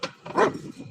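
A dog gives a short, close bark with a whimpering edge, a single brief yelp-like burst standing out in a quiet moment at an animal rescue livestream.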